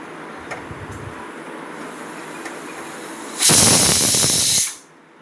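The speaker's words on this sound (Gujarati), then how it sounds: "કુકરમાં સાદી મગની ખીચડી વઘારીને મૂકી છે. આટલી બધી સીટી વગાડવાની છે" A pressure cooker of moong dal khichdi lets out a loud, sustained hiss of steam for about a second, then cuts off, after a quiet stretch of faint room noise.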